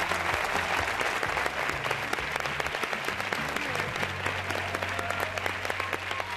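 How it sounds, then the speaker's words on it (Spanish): A studio audience at a 1993 Spanish TV game show claps loudly and steadily after a fashion segment of Ibiza models, dense continuous applause with music playing underneath. "Un fuerte aplauso."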